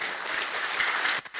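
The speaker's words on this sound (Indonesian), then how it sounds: "Oke, tepuk tangan untuk kita semua." An audience claps together at a motivational success seminar, a dense, steady burst of hand claps that cuts off abruptly near the end, with a few scattered claps after.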